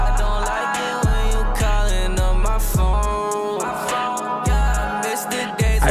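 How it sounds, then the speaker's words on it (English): Music run through the JUICEBOX plugin's reverb, a loud, dense track with steady beats and sustained tones, each hit trailing into a washy tail, with no voices. "the JUICEBOX reverb is super cool"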